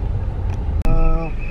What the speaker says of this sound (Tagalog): Traffic! All the way.